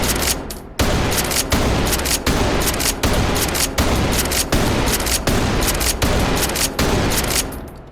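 A 590M shotgun in the tactical shooter game Ready or Not fires as fast as it will cycle, with loud, evenly spaced blasts in a steady rhythm of roughly one shot every three-quarters of a second, and no talking.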